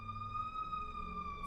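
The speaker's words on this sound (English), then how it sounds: "sirens. Sounds like an ambulance or fire truck." An ambulance or fire truck siren sounds steadily from a distance, a faint sustained wail over low background rumble.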